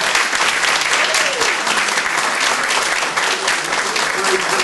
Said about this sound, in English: we just give the Lord a clap offering